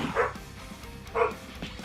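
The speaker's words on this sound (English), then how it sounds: "Was that your pup that barked" A pet dog barks twice in a short burst, a sharp yip and then a second bark about a second later, somewhat muffled and at moderate distance.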